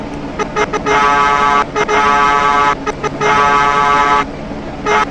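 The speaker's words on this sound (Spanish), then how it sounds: "tengan sus cambiazos de luces y sus bocinas" A milk truck's horn sounding in repeated blasts, short toots followed by two long sustained honks, loud and close over road noise.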